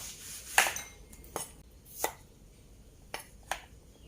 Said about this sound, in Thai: จะ หั่นหอมแดงนะคะ ครึ่งหนึ่งนะคะ